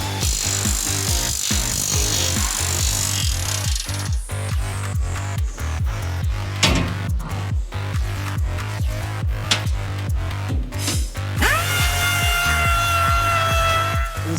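A planishing hammer works sheet metal in a fabrication shop, a loud rapid train of metallic hammer strikes repeating steadily over a constant machine drone, with a brief pause and a ringing tone near the end.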